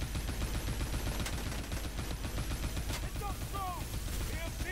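Dense, continuous automatic gunfire in Call of Duty Advanced Warfare, a sustained rattling barrage with faint voices and whooshing effects mixed in, loud throughout.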